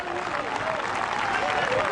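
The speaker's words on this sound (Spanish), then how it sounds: "Das un aplauso grande, alabanza a Dios Todopoderoso." A crowd claps together in sustained applause at an outdoor church event in a park, with voices mixed in beneath the clapping.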